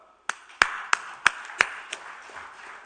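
About seven sharp, evenly spaced claps ring out in a steady rhythm against a quiet room during the closing session of an annual meeting, the last ones softer as the brief applause fades.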